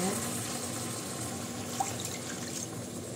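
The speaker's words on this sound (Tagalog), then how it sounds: "yung tubig na ilalagay natin" Water is poured into a cooking pot over beef to make broth, giving a continuous soft splashing and trickling that stays steady throughout at moderate volume.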